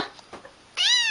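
A single clear, close cat meow with a rising-then-falling tone, preceded by faint background sounds.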